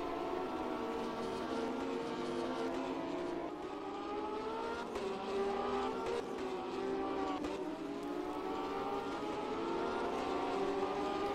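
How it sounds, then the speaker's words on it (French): Porsche Supercup race car at the Croix-en-Ternois circuit during a French Cup race in France, its engine note a steady, loud, sustained drone with gently shifting pitch throughout. "Vincent Queudeville qui va plus que probablement aller imposer sa Porsche dans cette première épreuve"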